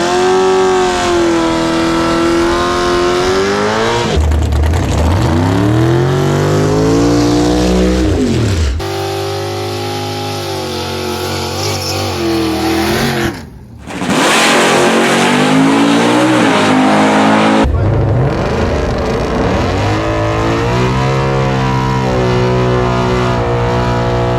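A Tesla Plaid making a quarter-mile drag race run at Bradenton Motorsports Park at night, loud and close, with sustained motor and tire roar that rises in pitch, cuts briefly, then surges again.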